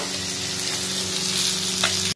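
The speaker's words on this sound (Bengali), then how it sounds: "এখানে এই দেখো মাছগুলো ভেজে নিচ্ছি" Fish frying in oil in a home kitchen pan, a steady close hiss and crackle of sizzling with a faint hum beneath and one brief clink near the end, no talking.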